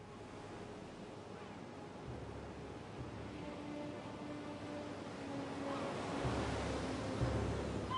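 Sea waves wash against the shore at Sounion, south of Athens, a steady broad surf wash with wind noise that swells louder toward the end.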